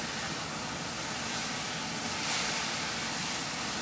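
Steady, loud frying hiss from beef and broccoli in a hot cast iron wok, a dense continuous crackle heard up close, swelling slightly near the middle, with no voices.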